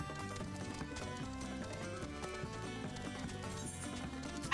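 Chocobo running footsteps in Final Fantasy XIV, a steady clip-clop gait loping along under layered game music, moderately loud and continuous with a brief louder burst at the end.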